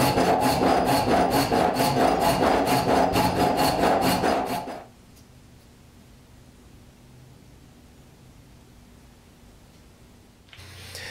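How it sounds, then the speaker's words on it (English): Handsaw cutting a wooden knife blank by hand, steady rhythmic back-and-forth strokes, close and loud for about five seconds, then stopping into quiet room tone. "Back to the old handsaw."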